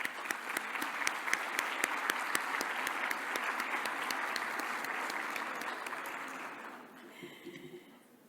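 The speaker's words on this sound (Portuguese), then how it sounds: "Eu pedi um aplauso." A hall full of attendees at a national pharmacists' convention in Portugal applauds at length. The clapping is dense and sustained at moderate, distant volume for about seven seconds, then thins into scattered claps and fades.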